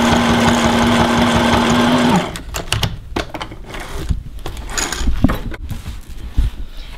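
A sewing machine hums steadily, then switches to a clattering run of rapid needle strikes while zigzag stitching onto lurex accent fabric for a zipped lined bag, loud and close.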